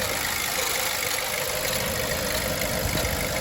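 A Nissan Juke's engine idles roughly in a steady, spluttery, jittery drone, heard close and continuous.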